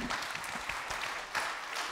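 A short burst of steady applause from a conference audience at a digital summit, many hands clapping together at a fairly even level, with no voices over it.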